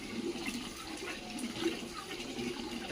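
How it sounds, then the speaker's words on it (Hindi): Rice being rinsed and swished in water, a soft continuous sloshing and trickling with small splashes, close and fairly quiet, with no voices. "ये लड़का ब्लॉगर भाई चावल धो रहा है"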